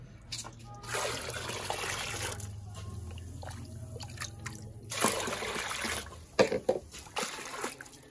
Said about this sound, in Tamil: ஸோ இந்த மாதிரி அடி வரைக்கும் கலக்கிக்கோங்க.